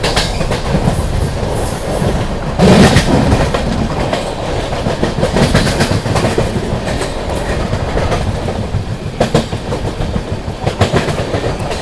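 The Gorakhdham SF Express, a superfast train running from New Delhi to Gorakhpur, rumbles loudly along the rails from onboard, with steady clickety-clack of wheels, occasional squeals and rattling carriages throughout.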